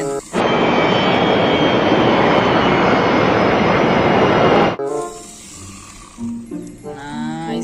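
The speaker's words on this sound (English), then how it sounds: "nice aeroplane" A toy-style aeroplane sound plays as a loud, steady engine roar for about four seconds, then cuts off abruptly and gives way to quieter tonal electronic sounds.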